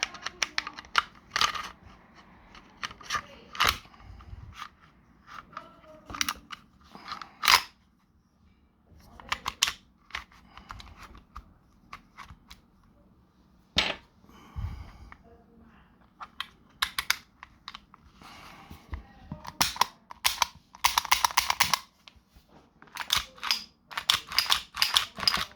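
Slide being fitted back onto an Umarex airsoft pistol: a long run of small plastic and metal clicks, taps and scrapes, close up and irregular, with short quiet gaps.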